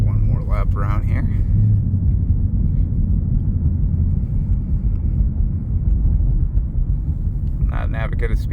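A 2022 Ford Mustang GT driving a lap, its engine a deep, steady rumble close to the microphone throughout, with someone talking over it at the start and end.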